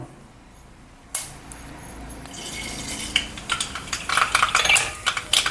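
Mustard seeds tipped into hot oil in a pan, a soft pour followed by rising crackle and sharp popping spatters that grow busier and louder.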